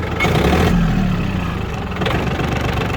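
A cold Yanmar F220 mini tractor engine starts and idles steadily at close range, a continuous low rumble with a slight rise in pitch partway through.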